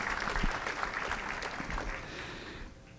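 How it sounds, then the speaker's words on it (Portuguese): Audience applause at a formal solemn session honoring a bishop, greeting a priest, a dense wash of clapping that fills the room and fades toward the end. "para o qual eu peço uma salva de palmas"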